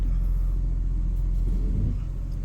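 A Subaru SVX pulls away on the open road, a steady low engine rumble and road drone heard from inside the car, loud and continuous with a slight swell partway through.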